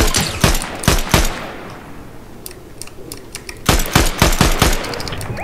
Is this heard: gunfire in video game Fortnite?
yes